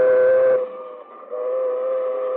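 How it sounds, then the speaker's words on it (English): A train's steady horn sounds loud and close at a road crossing, dipping briefly then resuming, with no voices. "And here comes the train"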